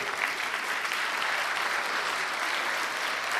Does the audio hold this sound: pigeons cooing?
no